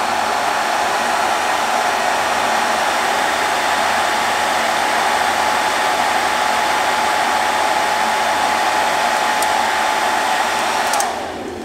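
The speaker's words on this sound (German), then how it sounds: "Und sobald ich den Föhn wieder abschalte," A hair dryer blows warm air steadily and loudly at close range onto the interior temperature sensor of a Mercedes SL R107, then cuts off near the end, with no talking.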